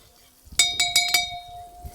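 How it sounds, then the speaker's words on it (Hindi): A metal spoon clinks against a pot of water while paste is stirred in for a paneer recipe. There are four quick, bright clinks with a ringing tone, close by in a quiet kitchen. "एक बर्तन में हमने पानी रख रखा है, उस पानी में डालेंगे ये वाला पेस्ट, इसको मिक्स कर देंगे।"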